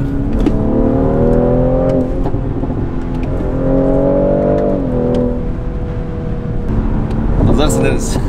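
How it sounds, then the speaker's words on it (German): A BMW M340i with a Stage 1 tune accelerates hard at full throttle, its engine note climbing steadily in pitch through two long pulls with a shift between them. The sound is loud and close, heard from inside the car. "Da können wir mal richtig Gas geben."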